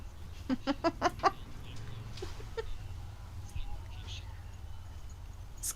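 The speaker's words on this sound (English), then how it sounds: "The chickens are drinking water." Farm chickens drinking water, giving a quick burst of several close clucks in a row, then a few scattered soft calls over a low background hum.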